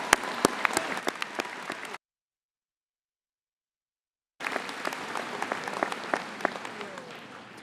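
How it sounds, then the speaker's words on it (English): Crowd at a university spring convocation applauding, a dense patter of many hands with a few sharp nearby claps, broken by a silent gap before the clapping resumes. "I hope you'll join me in applauding for what you've all done."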